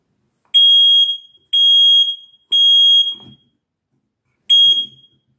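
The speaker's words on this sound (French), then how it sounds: "j'ai un détecteur de fumée. Voilà, je vais appuyer dessus." A smoke detector alarm gives four loud, piercing beeps over 100 decibels, three in steady rhythm and a fourth after a pause, with faint rustling between them.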